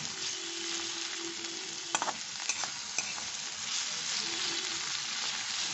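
Leftover fried eggplant is stir-fried in a pan, giving a steady close sizzle with a few sharp scraping clicks partway through.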